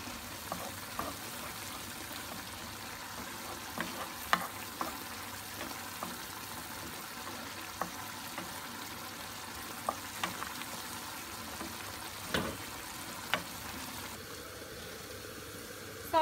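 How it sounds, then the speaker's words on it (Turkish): Tomato paste sautéing with carrots and onions in a pan for a spinach dish, giving a soft, steady low sizzle with occasional faint taps and scrapes of stirring. "Salçayla da biraz kavuruyoruz."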